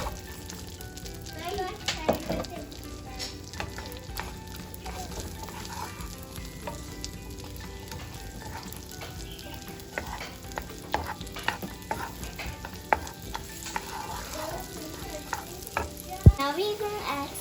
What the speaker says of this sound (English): Now we're gonna add onions and make it soft.